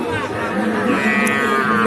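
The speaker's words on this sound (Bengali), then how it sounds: "অসংখ্য গরু দেখেন" Cattle low loudly and close by at a busy rural cattle market, a sustained moo filling the short stretch with crowd murmur faintly underneath.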